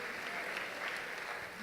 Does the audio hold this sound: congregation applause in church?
yes